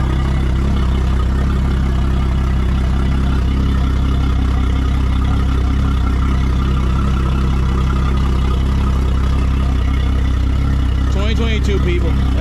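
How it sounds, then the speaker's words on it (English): A 2022 Yamaha F300XSB2 outboard engine running after its 20-hour oil service, giving a loud, steady, continuous idle drone with a deep rumble throughout and a brief extra noise near the end. "Once this one runs for a couple minutes, get that oil nice and seated"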